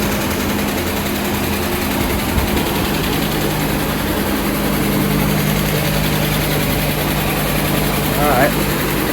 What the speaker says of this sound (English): she's running. Valve lifters are a little noisy